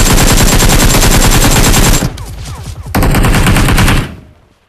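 Loud, rapid automatic gunfire in the mobile battle-royale game PUBG Mobile: a continuous stream of shots for two seconds, a brief gap, then another sustained burst before it cuts off.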